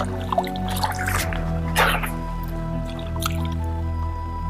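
Cold water drips and splashes in small irregular bursts close by while a campfire is put out, with squishy wet handling sounds over a steady low background hum.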